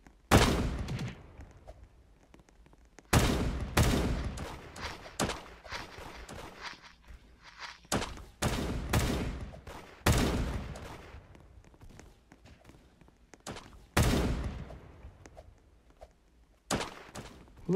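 Gunfire in the mobile game Da Hood, with repeated sharp bursts of shots and volleys at irregular intervals, some clustered in rapid fusillades, loud and close with quieter gaps between.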